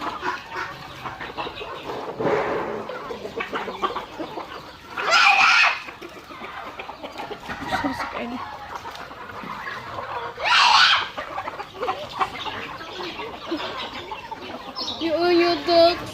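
Chickens and ducks on a rural farm, scattered clucks and calls with a few louder, drawn-out squawks or crows standing out, fairly close, mixed with quieter background murmur.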